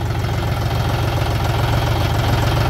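A John Deere 5050 D tractor engine runs steadily under load, a loud, close diesel drone with a constant low throb and no pauses while a front blade presses down and lifts the tractor's front wheels.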